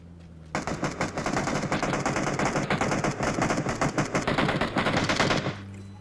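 Sustained automatic gunfire in a video game rattles in a loud, rapid stream of shots for about five seconds, close and dominant with almost no talk.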